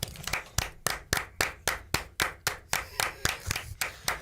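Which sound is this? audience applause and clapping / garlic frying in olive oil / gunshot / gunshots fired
audience applause and clapping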